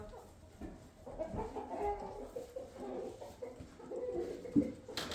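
Backyard chickens, including a naked neck hen, cluck and murmur continuously at moderate volume during evening chores, with a few sharper clucks rising above the steady flock chatter.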